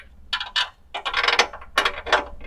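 A 3/8 hand ratchet turns a socket while replacing a motor mount on a Jeep Grand Cherokee 3.7L, giving a few short bursts of close, metallic clicking with brief pauses between strokes.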